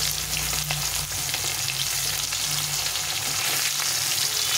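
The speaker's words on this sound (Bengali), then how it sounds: "তো মাছটা একটু ভালো করে ভেজে নিতে হবে, লাল লাল করে ভেজে নিতে হবে।" Desi katla fish fries in hot oil with a loud, continuous sizzle and crackle, close up and steady, with no talking.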